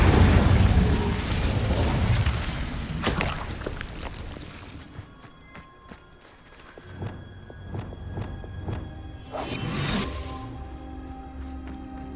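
Incendio fire spell cast in the video game Hogwarts Legacy: loud, roaring bursts of flame and booming blasts, mixed with metallic clanks and a later rush of fiery noise, all at close range without speech.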